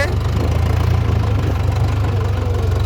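A farm tractor fitted with a cultivator idles close by with a steady, low, throbbing engine rumble that continues throughout.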